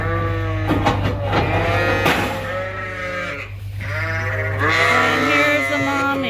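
Sheep and lambs bleat loudly and continuously close by while being moved between barns, several overlapping wavering calls from ewes and young lambs.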